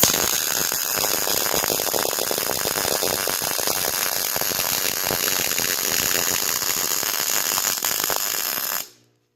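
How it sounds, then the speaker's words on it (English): Arc welding on a trailer repair, laying roughly two-inch beads: a loud, steady crackling buzz runs unbroken for about nine seconds, close to the mic, then cuts off abruptly at the end. "Another 2-inch weld. Another 2."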